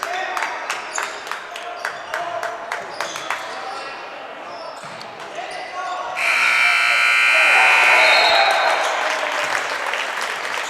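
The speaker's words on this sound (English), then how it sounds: "That was a shot off the rim, rebound, and back up, and the buzzer shot by William Zakowski." A loud electronic buzzer sounds in a school gym at a boys' JV basketball game, holding for a couple of seconds as the crowd's cheering swells. Basketball bounces and squeaks come before it, with a commentator talking over the scene.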